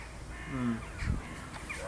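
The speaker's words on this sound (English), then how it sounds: "Crows are going absolutely crazy in that tree over there." Crows caw loudly from a tree near a summerhouse building site, several harsh calls in quick succession over steady outdoor background noise.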